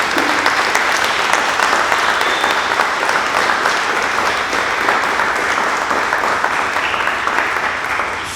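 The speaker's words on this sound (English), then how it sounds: "So a round of applause for all of our retirees." An audience at a Mahwah Board of Education meeting applauds retiring teachers, a loud, sustained wash of clapping that holds steady for about eight seconds before easing slightly at the end.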